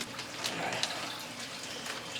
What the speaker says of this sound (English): All right, this water's going in.